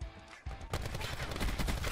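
Swordfish burst rifle fire in Call of Duty Black Ops 4 multiplayer, rapid loud repeated shots erupting after a brief quieter moment and continuing densely to the end.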